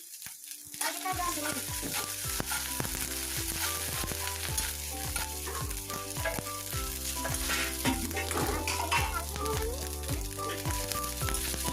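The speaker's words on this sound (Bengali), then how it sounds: "কাঁচা লঙ্কা বাটা দিয়ে আবারও একটু ভেজে নেব আদা বাটা" Onion, garlic, green chili paste and ginger paste frying in oil for a small-fish curry, with a loud sizzle that starts suddenly and stays steady, plus repeated knocking stirs of a spatula against the pan, close, no talking.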